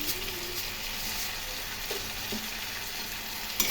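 Potatoes frying with cumin, coriander powder and spices in a pan, a steady soft sizzle close by with a faint stir or two and a brief clatter at the very end.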